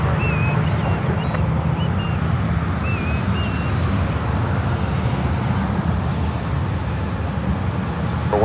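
An American Airlines jet taking off from runway 1 right at San Francisco airport gives off a steady, loud, broad engine roar that holds for the whole stretch, with faint birdsong above it.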